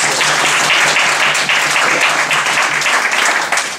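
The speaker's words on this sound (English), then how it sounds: "Let's clap for that." An audience at a congressman's Chinatown San Francisco appearance breaks into loud, dense, sustained applause, a continuous wash of clapping with no talk over it.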